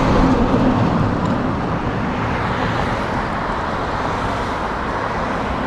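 Steady road traffic roars around a bike commuter, a broad continuous wash of passing cars and engine noise, fairly loud and unbroken, with no voices.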